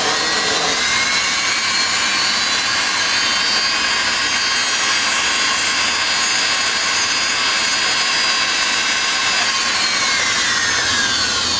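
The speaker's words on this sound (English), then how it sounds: "You just use a grinding wheel on your Fordham or your Dremel or whatever." A Dremel fitted with a smooth grinding wheel works over a sterling silver ring, holding one steady, loud high-pitched whine with a rasping edge for the whole stretch, and no voice comes through.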